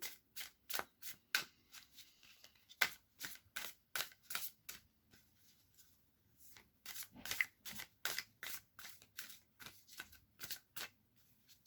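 Tarot cards are shuffled in a rapid run of crisp riffling bursts, close and fairly quiet, with a short pause midway before the flicking resumes; no voices.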